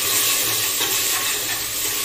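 Onions frying in a pan toward a red-brown color, a continuous hissing sizzle with faint stirring underneath, close and steady, no talking.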